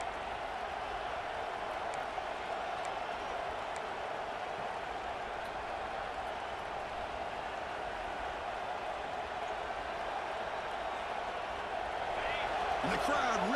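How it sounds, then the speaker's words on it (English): Steady roar of a stadium crowd in College Football 26 near the goal line, a continuous loud wash of cheering that swells slightly toward the end, with no clear talk over it. "the crowd really making some noise now, trying to help out this defense"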